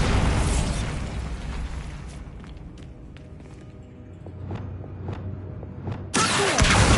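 Bombarda spell blast in Hogwarts Legacy, a loud broad burst that fades into scattered small pops and debris clatter, then a second loud burst near the end.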